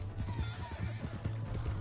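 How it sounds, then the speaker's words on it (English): A horse in Red Dead Redemption II whinnies over steady clip-clopping hooves, close and moderately loud, with no talking. "That's my horse!"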